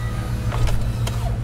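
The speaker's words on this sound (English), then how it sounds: "So the top goes up." A 1993 Ford Mustang LX 5.0 convertible's power top motor raises the roof, a steady low electric hum over the idling engine with a few brief mechanical clicks and creaks.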